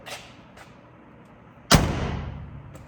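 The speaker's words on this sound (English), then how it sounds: "listen to this door shut" A single heavy slam of a 1968 Ford F-250 Camper Special pickup door, sharp and close, ringing briefly after a couple of faint clicks from the latch beforehand.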